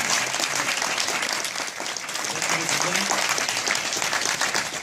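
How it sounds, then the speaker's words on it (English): Audience applause at a political field debate, with a crowd of many people clapping loudly and steadily throughout, close by and filling the room. "Let's give a round of applause."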